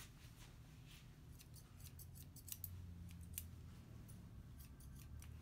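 Soft, crisp snips of scissors trimming a Yorkie's hair, arriving in quick irregular runs of close, quiet cuts over a low background hum.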